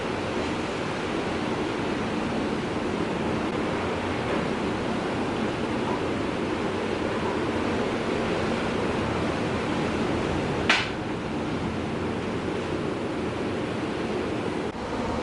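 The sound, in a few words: big ocean waves crashing on the shore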